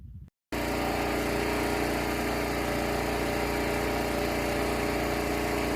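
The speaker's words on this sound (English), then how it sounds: "As you can hear, the generator is running." Generator powering a community well pump, starting abruptly after a brief silence and then running loud and steady close by, a constant engine drone with no talking.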